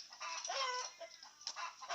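A pair of pheasants, a long-tailed male and a female, call in a series of harsh, clucking squawks that come close together and fairly loud, with short gaps between bursts and no voices.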